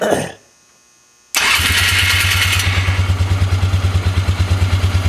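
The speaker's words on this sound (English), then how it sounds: "I'm going to fire it up." A 2003 Polaris Ranger 6x6 utility vehicle engine cranks briefly, then fires up and settles into a loud, steady, rhythmic idle close by, with a sharp burst at startup.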